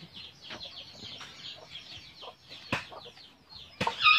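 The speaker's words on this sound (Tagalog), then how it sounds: "May marami pong ano dito, manok, bibi, tsaka gansa." Chickens clucking on a farm that also keeps ducks and geese, a run of soft low clucks and short calls close by, with a couple of sharper louder squawks near the end.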